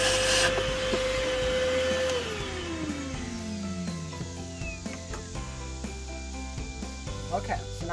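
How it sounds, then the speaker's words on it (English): A vacuum cleaner sucks dirt from the engine air filter housing of a 2014 Scion xB, its motor whine dropping in pitch as it runs, then settling into a rough, rattling suction with knocks and clatter. "So you're just gonna wanna get a vacuum and clean it out."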